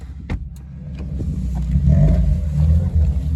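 A rare Mercedes car with exhaust leaks drives up, its engine rumble swelling from quiet to loud as it nears and revs, with a rough, throaty tone that continues to the end.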